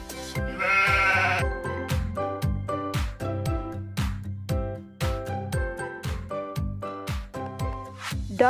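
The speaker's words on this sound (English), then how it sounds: "Sheep." A sheep bleats in a short wavering cry near the start, set over a steady, rhythmic music backing that carries on after the call ends.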